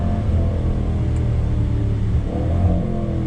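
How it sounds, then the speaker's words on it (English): A 2020 Jaguar F-Pace SVR engine hums steadily under load from inside the cabin, with a couple of short revving swells rising out of the continuous low drone as the paddle shifter drops gears. "You hear the blipping of that throttle when you hit the paddle."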